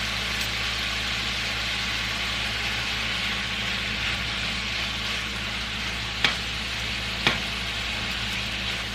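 Ingredients for a Philly cheesesteak skillet sizzle loudly and steadily in a hot pan, with a couple of brief clinks partway through.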